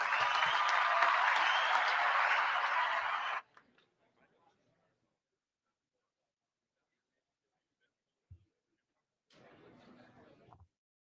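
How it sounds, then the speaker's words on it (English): A conference crowd gives a round of applause for Antone Barnes at a sports business event, dense clapping for about three seconds that cuts off abruptly, followed by near silence and faint sounds. "Give him a round of applause."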